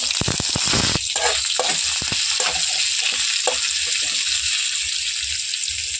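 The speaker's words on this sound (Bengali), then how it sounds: "দিয়ে দিচ্ছি সর্ষে তেল দিয়ে দিচ্ছি একটু জিরে কুচনো পেঁয়াজ" Cumin and chopped onion fry in mustard oil with a loud, close sizzle, opening with sharp clatters as they hit the pan before settling into a bright, continuous crackling hiss.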